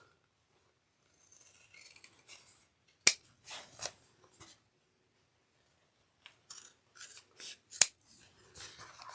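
Scissors snip through a fabric seam allowance while sewing a bag, several quiet crisp cuts with soft rustling of cloth in between, close up and without speech.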